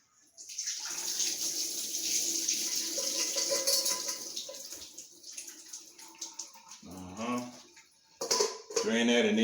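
Pasta cooking water draining from a pot in a home kitchen, a steady rushing pour of water and clinking cookware for several seconds, followed by a person speaking near the end.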